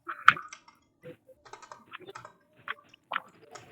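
Fingers tapping computer keyboard keys in short irregular bursts with pauses between, close and fairly quiet, with no speech over it.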